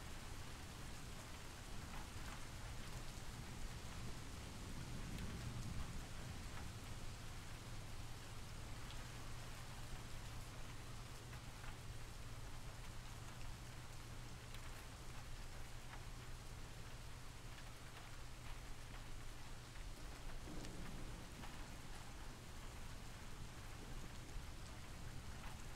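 Steady rain from a recording plays indoors, a continuous even hiss with a low rumbling undertone that holds throughout, no voices over it.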